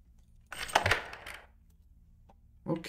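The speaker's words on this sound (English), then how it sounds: "picked up a coin by accident" A coin picked up in the stealth video game Thief, a bright metallic jingle with a couple of quick clinks, close and clear, then a short second metallic clink near the end.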